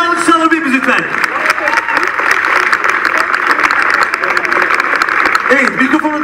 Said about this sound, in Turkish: Bir alkış alır mıyız lütfen?